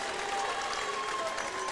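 A crowd at a high school regional final cheers and applauds steadily, a dense wash of clapping and shouts that fills the space without pause.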